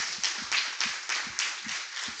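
A church congregation claps in a steady rhythm, about eight even beats in a couple of seconds, fairly close and with no voices over it.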